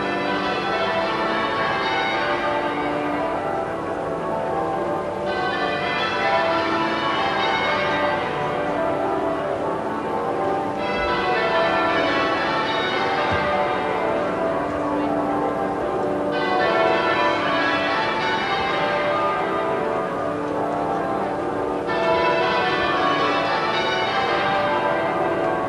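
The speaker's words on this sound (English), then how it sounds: "Westminster Abbey again, the bells still tolling." Church bells at Westminster Abbey toll loudly during a 1997 royal funeral, ringing in slow repeated peals with a regular swelling rhythm and no talk.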